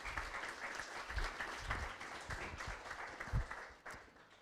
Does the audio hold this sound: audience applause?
yes